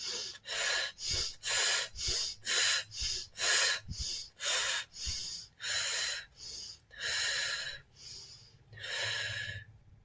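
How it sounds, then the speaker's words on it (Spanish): Heavy, rhythmic breathing from someone who has just climbed to a mountain summit: about a dozen loud gasping breaths, close up, gradually spacing out and slowing toward the end, with no talk. "De a poco nuestra respiración se va pausando."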